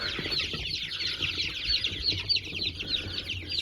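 Chick in a farmyard coop flutters and clucks, trying to get out: rapid soft wingbeats and a string of high chirpy cheeps, close and fairly quiet.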